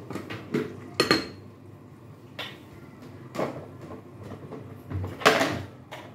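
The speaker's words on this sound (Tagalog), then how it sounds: "Tapos, ibalik po natin ang takip." A metal lid goes back onto a cooking pot of paksiw na tilapia simmering in coconut milk, several sharp clanks and clinks spaced over a few seconds, close up in a quiet kitchen.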